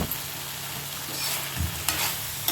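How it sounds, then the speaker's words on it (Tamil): Brinjal stir-fry with curry leaves and oil sizzles in a pan, with a steady crackling fry and a few scraping stirs of a spatula, close up, with no voices. "இப்போ நல்லா கலரிக்கலாம்"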